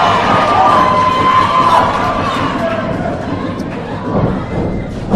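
A wrestling crowd at a charity show roars and cheers continuously, a dense loud wash of voices with shouts and occasional ring thuds, a commentator's voice blending underneath.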